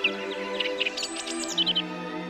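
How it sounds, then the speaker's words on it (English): Several birds sing outdoors in a continuous run of bright chirps and twittering phrases, fairly close and moderately loud over a steady low background hum, with no voices. "Of all the sounds found in nature, none has proved as bewitching as birdsong."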